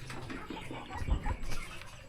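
Breeder chickens cluck softly while eating from a homemade feeder, a few low, scattered clucks and rustles, fairly quiet and close.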